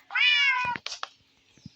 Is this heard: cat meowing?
yes